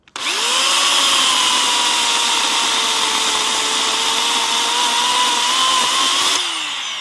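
A Millian 2400 W electric chainsaw runs loud and close at a steady high whine while cutting through a thin log, sustained for several seconds before winding down at the end, with no talking.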